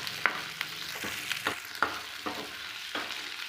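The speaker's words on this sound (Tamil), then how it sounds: "கொஞ்ச நேரம் வெங்காயம் நல்லா வதக்கிக்கலாம்." Onions sautéing in a pan for a Tamil chicken curry, with a soft steady sizzle and several sharp scrapes and clacks of a spoon stirring across the pan, close and alone without talk.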